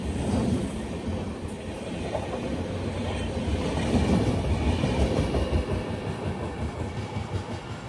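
Passenger train rolling past Munroe Island railway station, a loud continuous rumble with wheels clattering over the rails, swelling mid-pass and lasting throughout.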